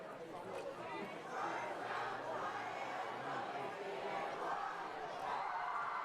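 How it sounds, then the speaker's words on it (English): A crowd at a high school varsity football game at Sid Cichy Stadium, with the student section cheering and chattering in a steady, broad roar that swells slightly partway through, heard from a distance. "Crowd waking up a little bit at Sid Cichy Stadium."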